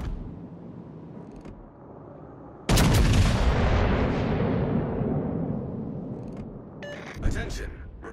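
Naval artillery from the cruiser Des Moines in a video game booms out as one heavy salvo, loud and sudden, with a long rumbling decay over steady background game noise.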